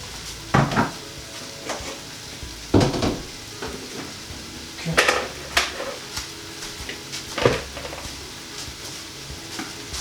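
Vegetables sauteing in a pot for vegan three-bean chilli, a low sizzle under repeated clattering stirs and scrapes of a utensil against the pot, with no voices.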